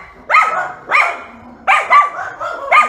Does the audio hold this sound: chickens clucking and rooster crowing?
no